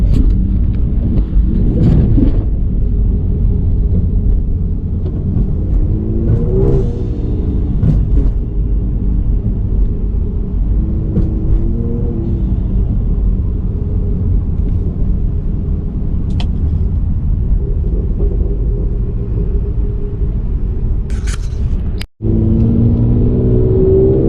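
A straight-piped Ford Explorer Sport exhaust drones steadily from inside the cabin, a loud continuous low rumble with small swells of throttle during slow traffic driving.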